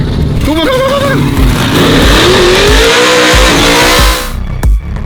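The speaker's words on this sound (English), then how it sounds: "LS Twin Turbo Truck." LS-engined twin-turbo truck revving hard at a Texas custom shop, a loud rising engine note with squealing tires and sweeping pitch climbs, cutting off abruptly near the end.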